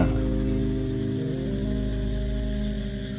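Steady rain pouring onto a surface, a dense, even patter that holds without pause and stays alone, with no voices.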